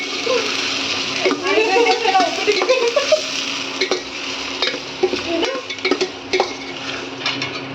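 Onions frying in a pan for uppittu, a soft sizzle under repeated scraping and clinking of a spoon against the pan, with a person talking over the cooking.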